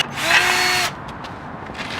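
A power drill fitted with a tapered reamer bores out a hole during a steering install, a loud steady whir for under a second before cutting off, leaving quiet room noise.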